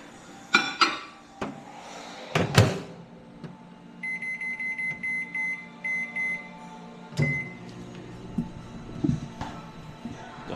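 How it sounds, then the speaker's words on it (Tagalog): A microwave oven sounds a series of about eight short evenly spaced beeps in the middle, between clattering knocks and clunks of dishes and its door, indoors and close by. "Microwave ko muna."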